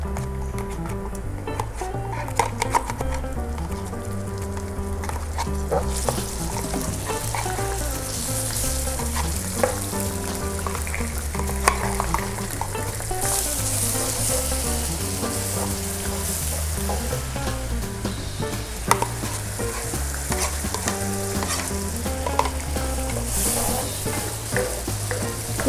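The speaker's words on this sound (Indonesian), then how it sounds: "Setelah wangi, kita masukkan bumbu yang tadi sudah di blender" Blended spice paste for Bangka-style tekwan fries in a pan with a steady, close sizzle, broken by repeated stirring scrapes, with almost no talk.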